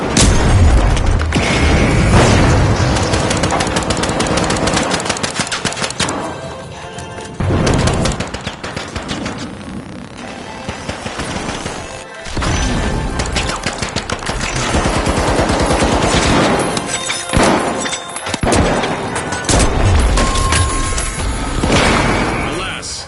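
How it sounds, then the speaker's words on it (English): Gunfire and explosions in a shooter video game, near-constant loud automatic bursts and heavy booms stacked over one another, with a short lull near the midpoint before the firing resumes. "Tossing a frag!"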